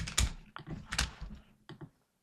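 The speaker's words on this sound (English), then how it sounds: "so I'm just going to go ahead and type some numbers in." Computer keyboard keys tapped in short irregular bursts while entering numbers, close and fairly quiet, with brief pauses between clusters of clicks.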